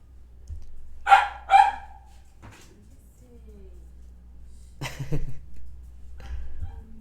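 A small pet dog gives two sharp, close barks indoors, followed later by fainter yips, with someone talking in between.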